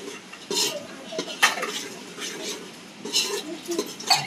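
Masala being stirred and roasted for a village-style rooster (gavran kombdi) dish in a large cooking pot, a metal spoon scraping and clinking against the pot in irregular bursts, close and moderately loud, with faint background voices.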